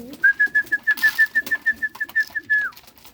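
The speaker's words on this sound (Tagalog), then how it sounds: "Yan mga kalapatids, nagpapakain na tayo." Pigeons cooing at feeding time: a near, clear series of rapid, evenly pulsed coos lasting a few seconds, then trailing off, with faint background bird sounds.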